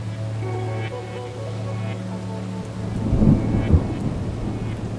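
Steady rain falls with a low, rolling rumble of thunder swelling midway and then fading back into the constant patter.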